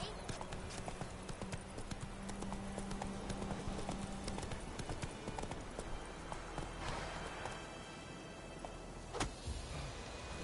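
Horse hooves clip-clop steadily at a trot in the video game Witcher 3, a continuous rhythmic clatter with a faint engine-like hum, and a voice speaks briefly over it.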